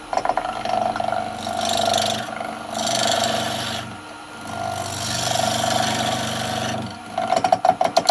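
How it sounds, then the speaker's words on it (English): A half-inch Record Power spindle gouge cutting an out-of-round wooden bowl on a lathe, giving a steady motor hum with a tonal whine and swelling rasping cuts in several passes, close and loud. "I'm going to take a few cuts. I'm going to use my spindle gouge, half-inch spindle gouge."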